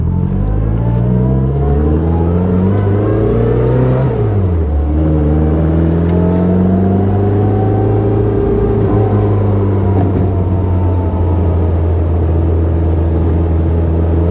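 A 1960 Bugeye sports car engine revs loudly and steadily up close while driving, its pitch climbing through the gears with a brief dip as it shifts, then rising again.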